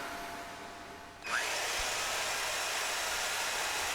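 A line-boring tool cuts a Kubota dog bone link, starting after a second and settling into a continuous, even whirring grind that carries to the end at a steady level.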